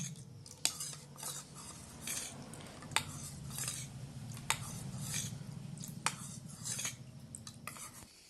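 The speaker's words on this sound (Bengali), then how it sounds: "এটা ভালো করে একটু গুলে নেব।" A spoon stirring an arrowroot mixture for chilli chicken in a bowl, with repeated sharp clinks of metal against the dish over a low scraping swirl, close and fairly quiet, no voices.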